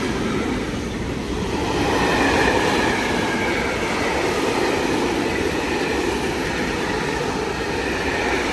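Train running through platform 2 at Anzola Emilia station, a steady loud rumble and rush of rail noise that holds close and unbroken throughout, with no voices.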